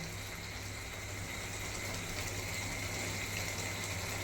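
A continuous bubbling, gushing hiss of chicken curry boiling in a pot, steady and close, with no voices.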